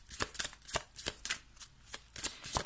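Oracle cards are shuffled and drawn in quick, papery bursts of riffling and sliding, close by and fairly soft, with short pauses between handfuls and no talking.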